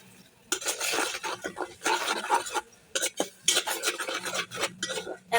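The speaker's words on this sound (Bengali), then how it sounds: "এখন মশলাগুলো ভালো করে কষিয়ে নেব।" A spatula scrapes and stirs ground turmeric, chili, coriander and salt being fried in oil in a pan, giving repeated close scraping and clinking strokes in uneven bursts with brief pauses between them.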